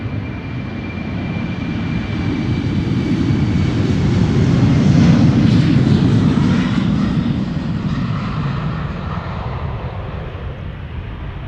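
A Delta jet airliner departing Amsterdam Schiphol Airport, a loud, broad engine roar that swells toward the middle and slowly eases off as it passes. Heard from outdoors with no talk.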